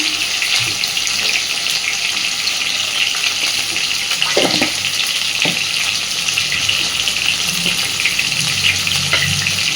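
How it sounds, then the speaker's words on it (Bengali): Pointed gourd (potol) fries with salt and turmeric, producing a continuous close sizzle with occasional stirring clinks and soft scrapes. "পটলটা ভাজার সময়তেই আমি কিছুটা লবণ আর হলুদ দিয়ে দেবো"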